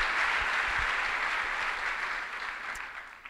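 Church congregation applauding, a dense, steady wash of clapping that continues throughout and fades slightly toward the end.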